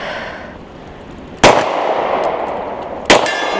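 Two pistol shots at a steel target 40 yards off, each a sharp loud crack with a bright metallic ring, about a second and a half apart, over quiet outdoor background.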